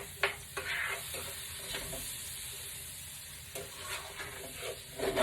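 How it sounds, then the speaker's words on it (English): Cabbage frying in a pot and being stirred, a steady quiet sizzle broken by intermittent scraping and clinking strokes of a utensil, close up with no talk. "Give it a little stir."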